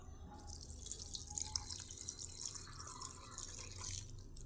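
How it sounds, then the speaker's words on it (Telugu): A glass of water poured into a cooking pot with tamarind, coriander and turmeric, heard as a faint, steady trickle and splash with small droplet sounds in a quiet kitchen. "ఈ గ్లాస్తో ఒక గ్లాసు నీళ్ళు పోసినాను"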